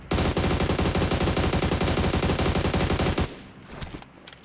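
Rapid automatic gunfire from a weapon in the battle-royale game PUBG Mobile, a loud sustained burst of shots for about three seconds that then cuts off, leaving quieter ambient game sounds.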